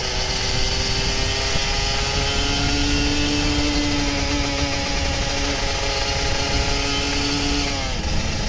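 An old Kawasaki Ninja RR 150 two-stroke motorcycle engine with an unidentified noise problem idles steadily nearby, a continuous buzzing drone with a faint pitch shift near the end, no voices.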